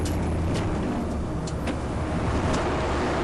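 A car drives along a motorway toward Catania in Sicily, giving a steady, loud broadband road and engine roar with tyre noise and a few brief higher hisses of passing traffic, no voices.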